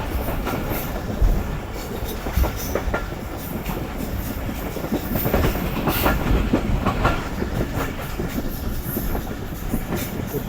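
The Rehman Baba Express runs along the railway track with a steady rolling rumble and repeated clickety-clack wheel beats, loud and close, with no talking.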